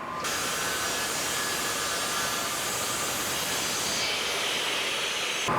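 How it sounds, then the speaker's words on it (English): A panel saw trims about an eighth of an inch off an end table shelf board, giving a loud, steady whirring roar with airy hiss that holds unbroken from start to finish. "we first want to take off about 1/8 of an inch of material on the panel saw"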